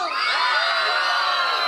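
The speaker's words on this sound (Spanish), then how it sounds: "¡Venga un grito de ustedes!" Crowd at a beach festival concert shouting, whooping and cheering loudly and continuously, a dense roar of many voices including high children's yells, close and filling the whole moment.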